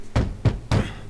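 Three heavy thuds of pounding on a door in Assassin's Creed Odyssey, evenly spaced and close, each a deep booming knock.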